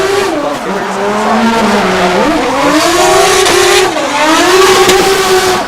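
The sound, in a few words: Formula Drift car revving at Sebring Raceway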